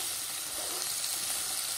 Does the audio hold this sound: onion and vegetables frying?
yes